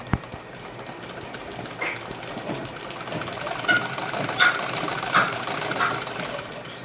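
A sewing machine stitches ladies' pajama fabric with a steady mechanical whir, close and moderately loud, running continuously with small bursts as the stitching speeds up.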